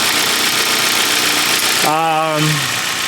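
A car engine idles steadily with a low, even rumble; partway through, a tonal whine with harmonics rises briefly over the running motor.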